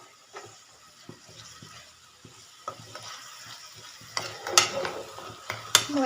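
Ginger garlic paste sautés in hot oil in a pan while being stirred, soft sizzling broken by a series of scraping stirs that grow louder and busier toward the end.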